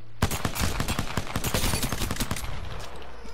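Rapid automatic gunfire at the Apex Legends firing range rattles off in a loud, dense burst of close shots lasting a couple of seconds before cutting off.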